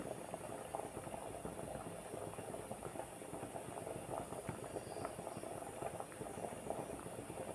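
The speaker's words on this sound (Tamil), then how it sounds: "இது மாதிரி நல்லா கொதிக்கணும், தளன்னு கொதிக்கணும்." A paneer gravy bubbling vigorously at a rolling boil in a pan, continuous gurgling and popping, fairly quiet and close, with a faint steady hiss above.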